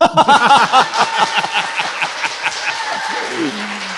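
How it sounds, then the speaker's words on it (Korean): Studio audience claps at a Korean economics talk, brisk close hand claps mixed with laughter and voices early on, then thinning into lighter scattered clapping as a voice rises at the end. "박수."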